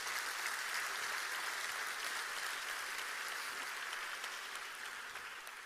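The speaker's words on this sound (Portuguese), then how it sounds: "Pode aplaudir se for para Jesus" A church congregation applauds during a celebration service, dense steady clapping held throughout at moderate volume and tapering slightly toward the end.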